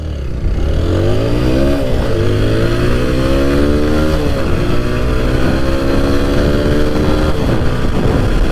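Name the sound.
TVS Apache 160 4V motorcycle racing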